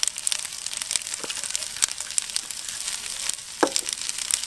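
Italian seasoning and garlic salt being stirred through hot frying oil in a pan, a steady crackling sizzle with scattered scraping clicks of the utensil, fairly close and continuous throughout.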